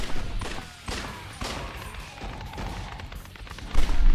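Rapid gunfire bursts in the Judgment shooting minigame Camera of the Dead come in repeated sharp volleys over background game sounds, with a heavier boom near the end.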